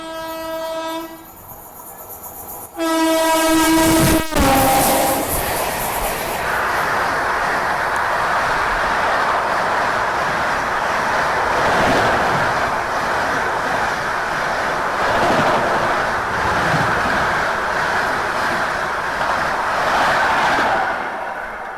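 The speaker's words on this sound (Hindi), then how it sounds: "असल में यहाँ पे हावड़ा SMVT दुरंतो ओवरटेक करने वाली है" The Howrah–SMVT Duronto express thunders past, overtaking a stopped train, opening with a long loud horn blast, then a sustained close roar and rumble of rolling coaches with rhythmic wheel clatter that continues to the end.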